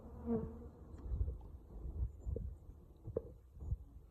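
Low buzzing of bees and wasps around a hive, with soft thumps and knocks of handling in the foreground and a faint drone throughout.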